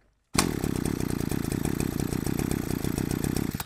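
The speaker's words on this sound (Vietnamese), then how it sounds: "cái cót nó giật nổ máy cho mình không gần như là không mất sức" A Japanese Shindaiwa-type brush cutter engine catches on the pull-cord start and runs steadily, a loud, close, buzzing two-stroke drone with a rapid pulsing rhythm after a brief silence.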